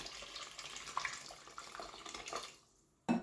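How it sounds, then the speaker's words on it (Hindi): Hot water pours steadily into a pot of minced mutton haleem, a soft continuous splashing stream that fades out, followed by a sharp clatter at the end. "अब इसमें पानी ऐड कर दूंगी।"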